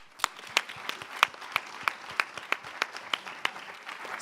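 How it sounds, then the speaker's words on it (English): An audience applauds at the close of an evening panel discussion on the future of work. Clapping is thin and individual hand claps stand out in a loose, steady rhythm for several seconds. "So a huge round of applause for you for being with us."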